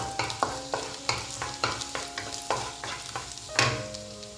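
Ingredients roast in a pan for paneer butter masala, with a steady sizzle broken by about a dozen regular scraping stirs of a spoon against the pan.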